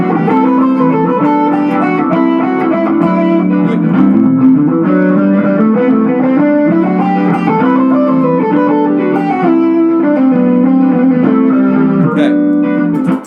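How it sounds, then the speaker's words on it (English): Distorted electric guitar plays a steady run of notes climbing and descending over a backing track, loud and sustained throughout. "I'm going to turn on my distortion, I'm going to play that backing track"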